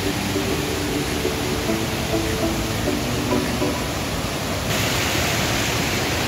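Spring water pouring down through a forest, a constant dense broadband rush like a small waterfall, close and steady throughout with no break.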